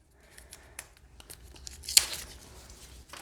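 Plastic wrapping is torn off an Enchanted Map oracle card deck: a run of crinkly tugs builds to one loud rip, then a long rustling tear, close up in a quiet room.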